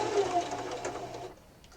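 A sewing machine stitches around the edge of a Valentine pillow in a steady, close whirring run that stops near the end, leaving quiet.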